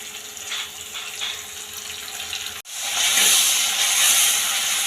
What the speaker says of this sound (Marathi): आता आपण त्यामध्ये मुगाची डाळ टाकून घेऊया